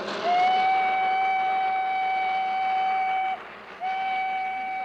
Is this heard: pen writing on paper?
no